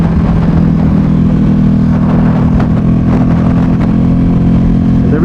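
A Ducati Panigale V2 superbike with upgrades riding on a highway, its engine droning loud and steady, blended with heavy wind and road rush throughout.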